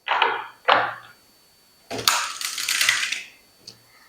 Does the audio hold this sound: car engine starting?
no